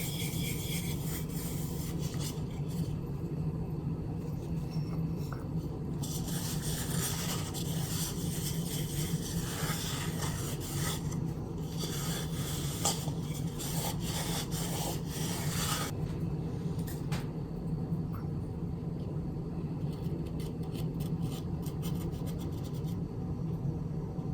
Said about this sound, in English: This bowl is very dry, so I'm going to use quite a lot of wax. Let it really soak into the wood.